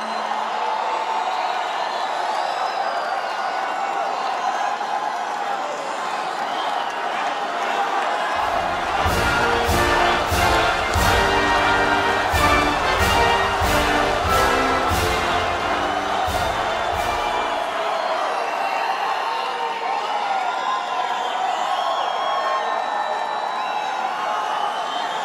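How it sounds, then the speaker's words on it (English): A large crowd roars and cheers at a Trump rally, a sustained wall of noise, with a burst of rhythmic chanting and stomping swelling in the middle before easing back to a broad cheer. "What a crowd."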